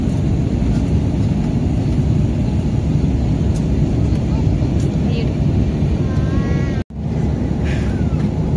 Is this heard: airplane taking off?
yes